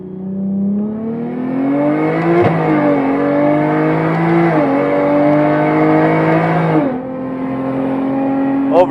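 Nissan R34 Skyline engine running on a race track at low boost, a loud, close, steady drone that climbs and dips through gear changes and revs, with no voices over it.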